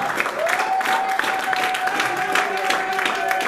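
A crowd at a worship gathering claps continuously in praise of the king of kings, dense applause with a sustained high tone held over it for a few seconds.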